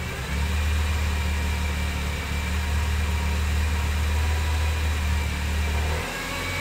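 A BMW E46 M3 engine holds a raised, steady idle during a Vanos test, a constant loud mid-pitched hum with a deep low drone that drops away near the end.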